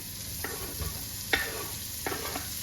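Onions frying in a pan for covered fried catfish, a soft steady sizzle broken by a few scraping stirs and tosses, close and moderately quiet with no talking.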